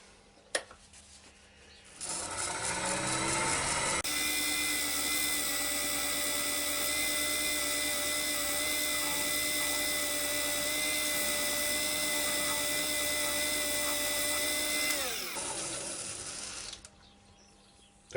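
A wood lathe spins a small ash bowl while it is buffed with kitchen towel, a loud steady high-pitched whine and hum that starts, holds for about eleven seconds, then winds down to quiet.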